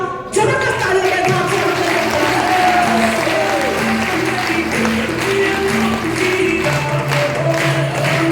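An audience at an indoor hall meeting claps steadily, a dense continuous patter that stays loud and even throughout.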